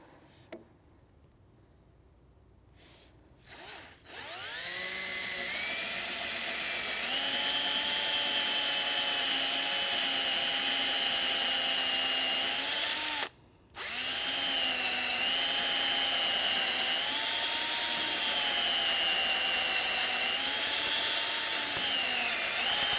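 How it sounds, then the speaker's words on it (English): Power drill boring slowly through wood with its included drill bit, a brief start-up after near silence, then a long steady whining drone that cuts out briefly midway and resumes until the end. "I'm going to go really slow and I'm going to go straight with this included drill bit"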